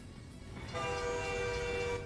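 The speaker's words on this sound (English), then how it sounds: "Oh, it's a train. I thought a car behind me was honking at me." Horn of a train in the American Truck Simulator video game, a steady multi-tone blast that starts partway through and holds loud over a continuous rumble of road and engine noise, with no talk.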